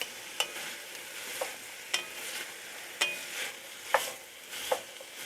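Onions and squash cook in a pan, a soft continuous sizzle under regular clicking taps of a utensil stirring roughly once a second, close and fairly quiet with no voices.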